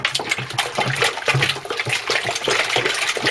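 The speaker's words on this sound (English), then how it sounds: "To this we will add about 22 litres of water" Water gushes steadily into a fermenting vessel for home brewed lager, about 22 litres being added to concentrate, a loud, continuous splashing and churning rush.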